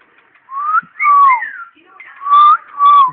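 A pet bird whistles toward a dog indoors: four close, clear whistled notes, rising and falling slides grouped in two pairs, with quiet gaps between.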